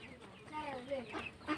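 Tiger chickens, about one and a half months old, cluck in short wavering calls on a poultry farm, close and moderately loud.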